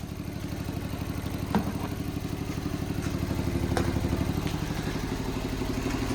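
A Smart 451 Cabrio engine, started for the first time after three years, idles steadily up close with an even, pulsing mechanical rhythm and light clatter throughout.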